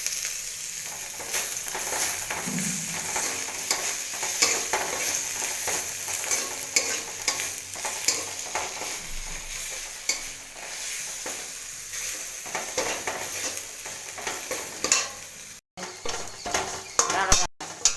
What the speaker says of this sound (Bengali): এবার আদাটা দিয়ে দেবো, আদা বাটাটা